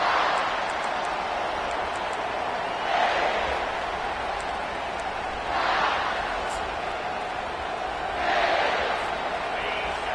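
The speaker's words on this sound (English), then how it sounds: "This crowd going to try to make life miserable for these guys." Stadium crowd in College Football 25 at a Kentucky game, a steady broad roar that swells in three louder waves of cheering, with no talk over it.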